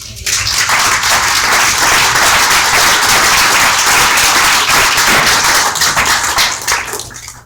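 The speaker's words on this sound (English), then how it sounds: "I'd just give Pat a round of applause here." Loud, dense audience applause swells in and holds steady for several seconds before fading out.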